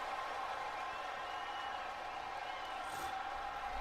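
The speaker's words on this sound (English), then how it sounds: "The crowd is looking forward to this one." A large crowd at a wrestling event in the Helsinki Halli in Finland makes a steady, distant roar of cheering and clapping, with a commentator talking over it.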